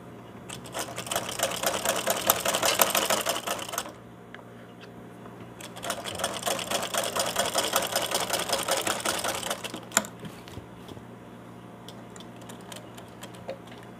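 A sewing machine stitches a baby girl's night dress in two steady runs of about three and four seconds, separated by a pause with only faint room noise and a few small handling clicks.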